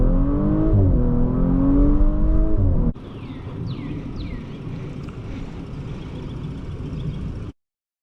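A 2023 Audi S5 Prestige accelerates hard at full throttle, its engine note climbing steadily and loud up close before a gear change drops it to a lower, rougher roar, which cuts off abruptly near the end.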